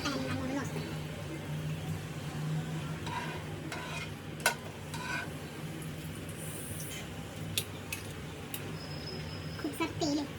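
Food fries in plenty of oil in a nonstick pan with a faint, steady sizzle. Scattered clicks and scrapes of stirring run through it, and a voice talks quietly in the background.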